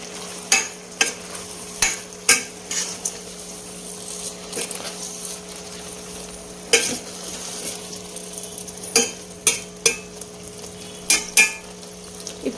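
Ground coconut paste is being stirred into Kerala aviyal, a thick mixed-vegetable dish, with a spoon scraping and knocking against the pot in irregular close clacks over a low simmering hiss.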